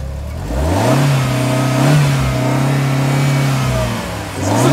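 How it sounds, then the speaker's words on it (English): A rear-wheel-drive car's engine revs up hard from idle and holds a loud, steady roar, dips briefly, then revs again, close by and alone without talk. "Rev this thing up."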